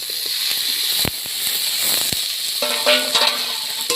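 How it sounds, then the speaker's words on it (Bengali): Fried vegetables tipped into a pan of cooked tomato for vegetarian dal, a steady close hiss of sizzling with a few sharp clinks and a brighter crackle toward the end. "এবার ভেজে রাখা যে সবজিগুলো সবগুলো আমি দিয়ে দেবো।"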